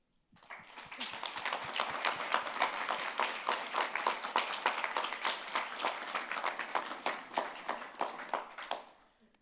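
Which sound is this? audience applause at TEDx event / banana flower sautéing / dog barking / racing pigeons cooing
audience applause at TEDx event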